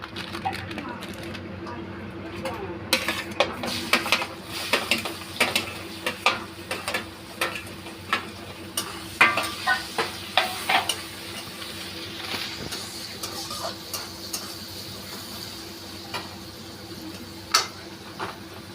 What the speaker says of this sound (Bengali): এবার এর মধ্যে দিয়ে দেবো কেটে রাখা ক্যাপসিকাম কুচিটা।